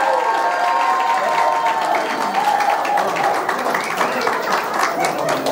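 Guests at a Christian wedding ceremony in Nepal break into steady, full applause, a thick crowd of clapping hands with a few cheers, sustained at close range throughout.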